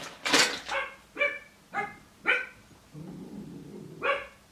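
A dog barks indoors in a string of loud, sharp barks spaced about half a second apart, with a low growl-like rumble between the last two.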